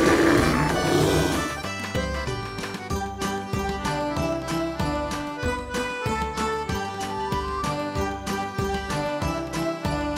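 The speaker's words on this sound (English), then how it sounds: "Bear." A bear's roar bursts out loudly at the start, then fades as rhythmic music with a steady beat carries on beneath and after it.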